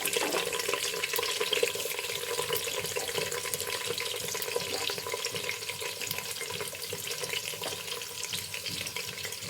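Chillies and onions fry in hot oil, giving off a steady, dense crackling sizzle that stays fairly even throughout with no talking.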